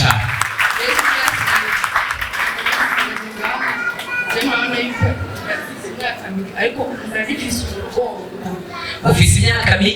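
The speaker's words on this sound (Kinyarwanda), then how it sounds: "komera imana amashyi menshi cyane" A church congregation breaks into sustained applause and clapping during a worship service, with cheering and a preacher's voice carrying over the crowd, and a loud burst of clapping swells again at the end.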